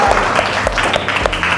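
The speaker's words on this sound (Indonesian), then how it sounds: "Tepuk tangan buat kita semua." Applause in a classroom setting during an academic supervision lesson, a short burst of several clapping hands lasting under two seconds, fairly loud and close, with no talk over it.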